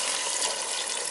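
Water pours steadily into a soup pot for garbanzo bean and rice soup, a loud, close, continuous rushing splash with no pause.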